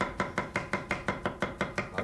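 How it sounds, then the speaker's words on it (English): A cleaver chopping zucchini on a board in a wok cooking show kitchen, about a dozen brisk, evenly spaced chops in a steady rhythm, close and clear with no talk. "cut up more of this zucchini"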